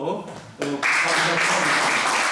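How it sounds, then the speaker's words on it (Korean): An audience at a lecture breaks into applause, a dense wash of clapping that swells after a brief voice and holds steady, loud and close. "오늘 우선 큰 박수로"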